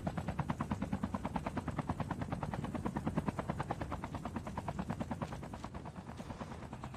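Helicopter in Call of Duty Mobile, a loud rapid rotor chop beating steadily and close, fading slightly near the end.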